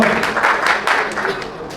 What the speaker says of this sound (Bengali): একবার জোরে হাততালি হয়ে যাক